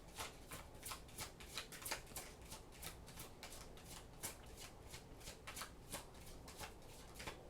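Tarot cards being shuffled by hand, soft and close: a run of quick papery riffles in repeated bursts with brief pauses between them.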